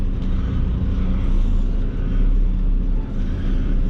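Truck driving its drive tires slowly up a ramp while hauling a long trailer, a loud continuous low engine rumble with slight swells, close by and steady, no talking.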